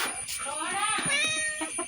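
A cat meows several times up close, drawn-out wavering cries with a faint murmur of background noise.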